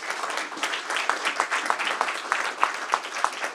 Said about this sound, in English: let's have a huge round of applause for all of our 6 finalists